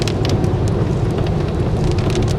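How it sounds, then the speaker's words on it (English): Rain from a passing cloudburst in California, a dense steady hiss of drops falling close by with no voices, holding even through the short stretch. "And the rain's subsiding finally."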